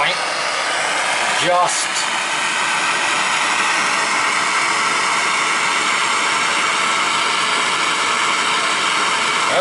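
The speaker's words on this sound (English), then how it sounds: "I'm gonna heat up this joint" A torch heats a joint on a copper water line during a plumbing repair, a loud, steady roaring hiss that runs throughout at close range, with a brief voice near the start.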